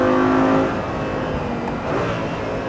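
An Audi R8 GT sports car pulls hard on a race track, its engine note loud and steady with a strong tonal whine at first, then easing into a sustained roar, no voices present.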